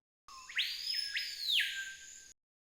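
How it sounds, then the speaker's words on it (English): A screaming piha's call rings out in tropical jungle, a loud, clear whistled whip: a rising slide, a sustained high note, then a second sharp upsweep and long held tone that drops off at the end, alone and close. "the screaming piha, which has a famous call that you could hear in various popular media depicting tropical jungle"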